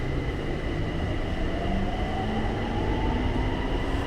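Riding a Bangkok BTS Skytrain Green Line car, a steady rumble of wheels and motor fills the cabin, with a faint rising electric whine, continuous and close, no talk.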